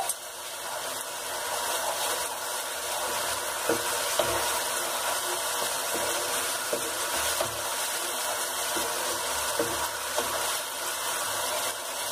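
Ginger garlic paste fries in a pan for shahi paneer, giving a steady moderate sizzle under the occasional scrape and knock of a spoon stirring the mixture.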